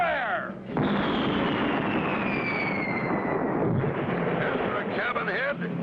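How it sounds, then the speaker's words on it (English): A cartoon ship's cannon fires one sustained, loud broadband blast that roars for several seconds, with cartoon voices and whooshing effects heard around it. "Blast away, Ezra. Fire"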